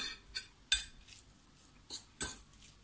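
A utensil mixes grated cheese into a tuna filling in a dish, giving sparse, quiet metallic clinks and scrapes at irregular intervals, with a couple of sharper taps standing out.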